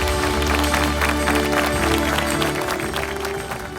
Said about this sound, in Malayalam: എല്ലാവരും നിറഞ്ഞൊരു കയ്യടി കൊടുക്കുന്നു.